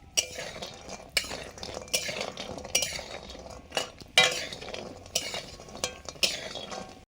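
Small lentil boris fry in oil in a wok, with repeated metallic scrapes and clinks of a spatula stirring over a soft background sizzle.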